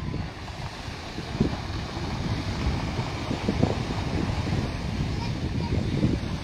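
Gentle sea waves wash steadily along the Casablanca shore near a moored ship, a soft continuous rush mixed with wind buffeting the microphone.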